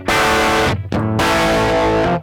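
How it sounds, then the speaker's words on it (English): Electric guitar played through channel A of a Fender Dual Pugilist distortion pedal, two loud, sustained distorted chords with a short gap between them, heard alone. "So this is with just distortion A."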